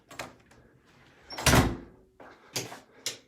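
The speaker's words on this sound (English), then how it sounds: "This is an entrance door, so I can come in from there." Office entrance door being opened and closed, a sequence of latch clicks and rattles building to a loud close thud, then a few sharper knocks and clacks, close by.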